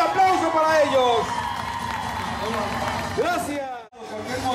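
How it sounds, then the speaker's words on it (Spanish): Crowd applause and cheering with whoops at a children's Mexican Revolution parade, loud and continuous, with an announcer's voice over it before a brief drop near the end. "¡Fuerte el aplauso para ellos!"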